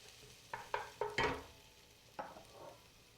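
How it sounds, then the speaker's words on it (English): Chopped leeks stirred around in a hot pan, a handful of scraping, clattering stirs with a faint sizzle underneath, fairly quiet and close, no talking. "Add the chopped leeks. Stir the leeks around a little bit."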